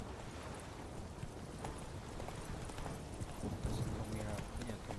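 Roach the horse's hooves clip-clopping at a steady run in The Witcher 3, a continuous rhythmic patter under game ambience with speech nearby.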